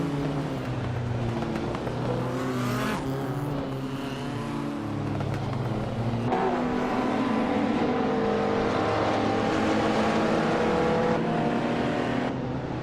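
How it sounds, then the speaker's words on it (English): A 1988 Holden Commodore SS Group A race car engine roars in a racing video game, a steady loud drone with shifting pitch as it revs through gears, continuous throughout with no pauses. "Bot Ablaza is driving in 1988 Holden Commodore SS Group A"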